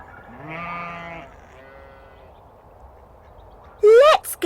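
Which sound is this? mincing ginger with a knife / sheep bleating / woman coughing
sheep bleating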